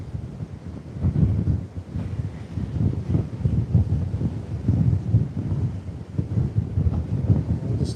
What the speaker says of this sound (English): Oh, this is so windy. Might even be strong.